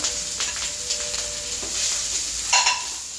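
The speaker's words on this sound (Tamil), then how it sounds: "நல்லா ஃப்ரை பண்ணிப்போம்" Onion, red and green chillies and kasuri methi frying in a kadai: a steady, loud sizzle with occasional scraping stirs, close up and with no voices.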